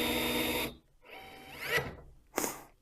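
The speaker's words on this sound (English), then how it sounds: "I'm going to just use this tool to fix the bolts in place" A battery-powered tightening tool drives bolts at an assembly station in short bursts: a whirring run that rises in pitch, then a quick, sharp final click-burst after a pause.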